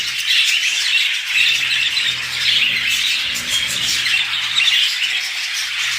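A flock of budgerigars in a fancy bird collection squawks and chirps constantly, a busy, bright chatter of many birds close by with no voices.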